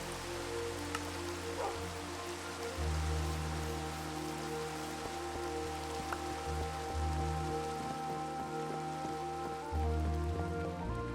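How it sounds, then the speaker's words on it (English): Rain falls steadily in a Minecraft-style building game, a soft, even hiss of drops that continues throughout under a low, sustained hum of background game music, with no voices. "Ooh, it's raining."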